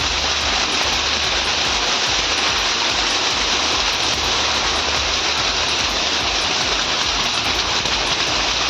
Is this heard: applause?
no